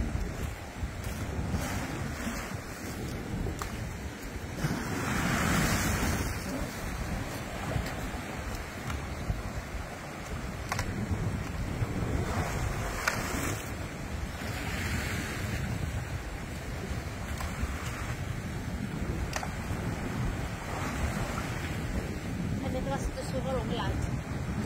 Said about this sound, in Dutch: Echte zeegolven.